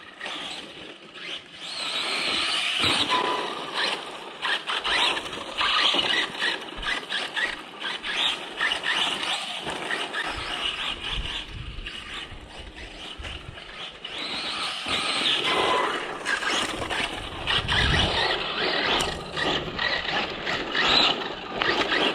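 A ready-to-run RC car runs around a track, its motor whine and mechanical rattle steady and fairly loud throughout, rising and falling slightly as it moves.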